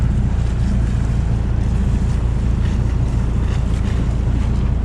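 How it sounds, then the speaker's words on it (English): River current rushing past a sailboat squeezing through New York City waters at speed, a loud, steady roar of water and wind buffeting the microphone, continuous and close. "Look at the current going by."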